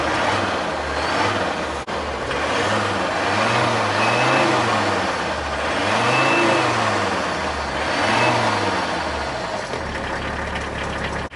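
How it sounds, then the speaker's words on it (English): A Mercedes car engine revving after sitting through winter, several slow swelling revs rising and falling over a steady idle, close and loud, with no talk. "Let's give her a rev."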